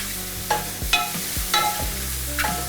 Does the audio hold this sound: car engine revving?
no